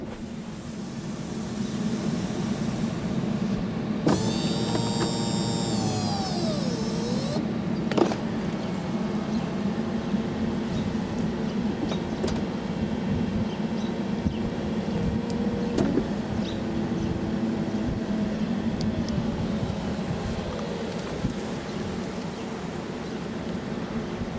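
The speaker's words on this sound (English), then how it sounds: "let's go ahead and convert the top. So again, here we are. It's a soft top, so it's going to take a few seconds" A 2011 Rolls-Royce Phantom Drophead Coupé's soft top opening: a steady low mechanical hum runs throughout, with a higher electric motor whine rising and falling for a few seconds, followed by small clicks and thuds as the panel moves. No voices.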